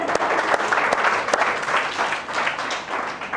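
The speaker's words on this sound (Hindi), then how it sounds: "जोरदार तालियां।" Loud, dense applause from a classroom audience at a UPSC coaching session, sustained clapping with sharp individual claps popping through, close and continuous.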